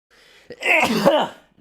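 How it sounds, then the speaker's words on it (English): A single loud sneeze, with a short breathy intake before the sharp burst, then quiet. "I gotta sneeze"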